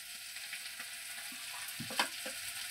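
Poppy seeds (posto) land in a frying pan with a faint, low sizzle and a few soft scraping stirs near the end, quiet throughout and without speech.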